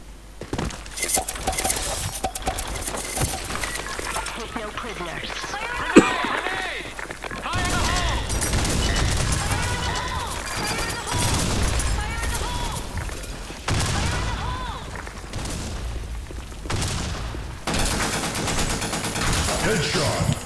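A video game sniper match crackles with repeated gunfire, including one sharp, loud shot, over continuous game noise for about twenty seconds.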